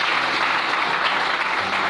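A church congregation bursts into sustained applause to acclaim the Lord during a revival prayer service, with dense, steady clapping that holds loud and even throughout.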